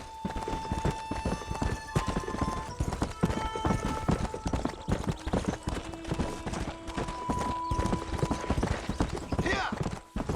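Steady clip-clop of horse hooves at a walking rhythm in the video game Red Dead Redemption, with a synthetic soundtrack humming beneath and a brief whinny-like sound near the end.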